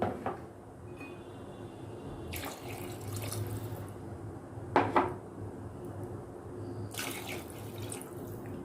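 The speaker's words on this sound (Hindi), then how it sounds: "और अब मैं यहाँ पर 2 से 3 गिलास पानी शामिल करूंगी।" Water running into a cooking pot while aloo kofta curry is being prepared, a steady gush with faint kitchen clatter and a couple of louder knocks midway.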